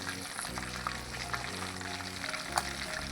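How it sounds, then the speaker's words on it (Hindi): Chicken leg pieces fry in oil with a steady crackling sizzle that stays even throughout, with a few sharper pops rising above the bubbling. "मैंने 5 मिनट एक साइड से लेग पीसों को फ्राई किया हुआ।"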